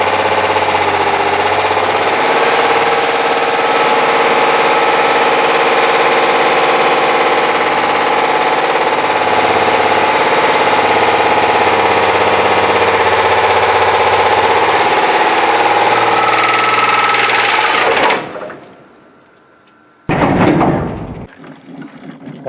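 A Chevy S10 4x4 with a 4.3 V6 runs with its oil removed, a loud, steady engine roar holding for about eighteen seconds before cutting out abruptly, followed by a brief burst of noise.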